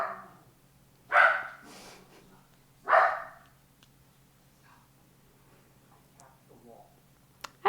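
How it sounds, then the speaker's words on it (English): A dog barks twice, about two seconds apart, fairly close and sharp against a quiet indoor background with a low steady hum. "She's just been barking at literally everything"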